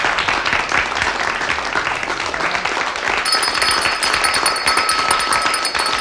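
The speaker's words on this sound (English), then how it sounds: "I think they changed the applause." Steady applause sound effect on an afternoon talk show, a dense, even wash of clapping that runs loud and unbroken for the whole stretch, with no voices on top.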